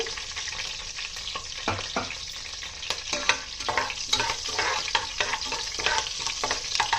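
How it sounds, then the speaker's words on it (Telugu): Dry masala spices fry in hot oil in a pan, a close, steady sizzle broken by scraping stirs throughout. "డ్రై మసాలాస్ వేసేస్తున్నాను. ఇవన్నీ బాగా వేపుకోవాలండి."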